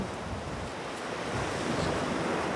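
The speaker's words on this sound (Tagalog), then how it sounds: "Mga balod sa dagat" Sea waves at Hornsea beach, a continuous broadband surf wash that builds slightly louder toward the end, with wind buffeting the microphone and no voices.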